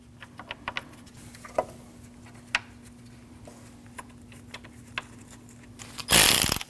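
Ratchet or wrench clicks as three 10mm bolts are tightened on the cooling fan of a 2003-2008 Subaru Forester 2.5L, heard as sparse, scattered close taps over a low steady hum, then a sudden loud rushing burst at the end.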